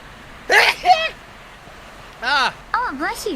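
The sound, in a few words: sneeze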